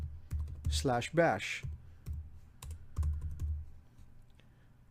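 Keys clatter on a computer keyboard as a Linux command is typed, with short, sharp clicks in uneven bursts, partly under a man's speech.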